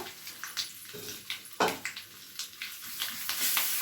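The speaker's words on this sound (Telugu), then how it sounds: "పోపు వేగిపోయిందండి" Tempering of urad dal, mustard seeds, dried red chillies and ginger pieces frying in hot oil for tamarind pulihora, giving a steady close sizzle with scattered crackles and stirring scrapes, no talking.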